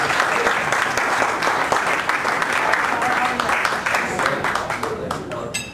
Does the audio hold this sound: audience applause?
yes